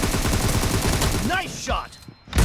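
Gunfire in the mobile shooter PUBG Mobile, a rapid automatic burst of repeated shots for over a second, followed by a few scattered effects and a final loud shot.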